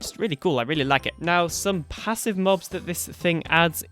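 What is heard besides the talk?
No everyday noises stand out.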